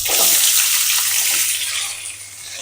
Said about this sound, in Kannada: ಈರುಳ್ಳಿ ಸ್ವಲ್ಪ ಗೋಲ್ಡನ್ ಕಲರ್ವರೆಗೂ ಬರೋವರೆಗೂ ನೀಟಾಗಿ ಹುರ್ಕೋಬೇಕಾಗುತ್ತೆ.